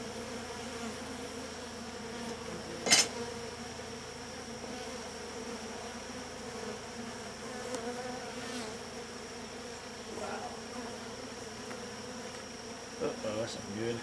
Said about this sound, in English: These are like the your average everyday honeybee you see